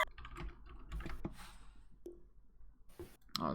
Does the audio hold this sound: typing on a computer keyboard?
yes